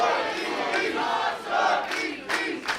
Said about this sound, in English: The Northeast Beast chants filling the Yarmouth AmVets.